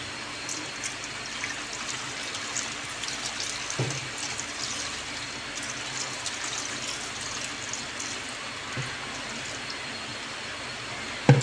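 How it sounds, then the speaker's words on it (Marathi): Water poured into a soup pot holding tomato, garlic, chili and turmeric, a steady soft trickling stream running quietly throughout with a couple of faint knocks and no talking. "त्यात टाकत आहे आपण आता पाणी."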